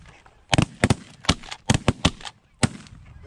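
Shotguns fire at snow geese during a group goose hunt: around eight or nine sharp, loud blasts come in a ragged volley, some nearly overlapping, spread over about two seconds against a quiet outdoor background.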